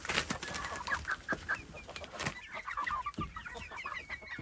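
A young chicken flock clucks and chirps on and off throughout, with several short calls overlapping at close range against a busy outdoor background.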